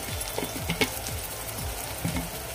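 Red chilli powder, garam masala, turmeric and salt fry in oil and are stirred. A continuous close sizzle carries rapid scraping strokes across it. No one speaks.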